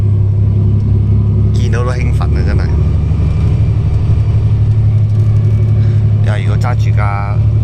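A bus engine rumbles low and steady throughout while riding along a winding road near Koyasan, Japan, with people talking briefly over it twice.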